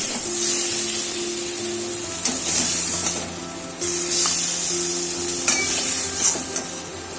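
Potato stuffing fries and is stirred in a pan, a close, continuous hiss and sizzle with periodic scrapes of a spoon across the pan over a steady background hum.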